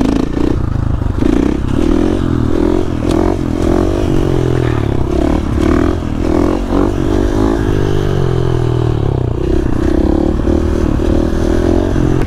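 Supermoto motorcycle on city streets, its engine held at a steady throttle, giving a continuous loud drone with rattling clatter and wind rush, close to the rider throughout.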